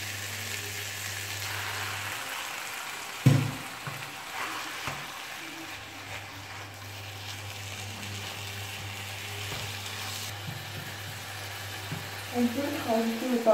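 Ground beef sizzles in a frying pan with a low, soft hiss over a steady hum, broken by a sharp clack near the start and some utensil scraping toward the end.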